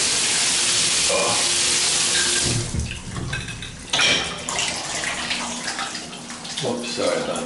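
Water from a tap runs into a drain in a home, a loud steady rush that cuts off partway and gives way to quieter trickling and gurgling as it drains away.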